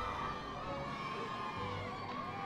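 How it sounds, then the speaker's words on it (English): A crowd cheers faintly in a Harry Potter and the Order of the Phoenix video game, a thin continuous wash of distant shouts and whoops with no single voice standing out. "I hear cheering even though I don't see hardly anyone else around here"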